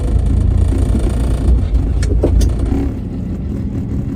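A 1966 Dodge Dart GT, a barn find, cruising on a road with a steady mid-range engine drone and tire rumble, close and loud, easing slightly in the last second; no talking.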